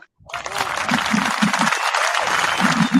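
A canned applause and cheering sound effect from a DJ's clap button, starting abruptly after a moment of silence and running loud and steady, with short low thumps from a beat or music underneath.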